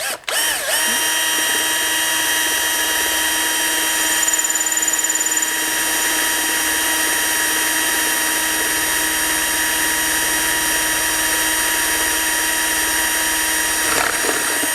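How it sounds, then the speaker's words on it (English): A small power drill whines steadily while boring through the decking of a model ship, a high constant tone held at light pressure for a long stretch before it stops. "I'm going to very carefully drill through this decking here"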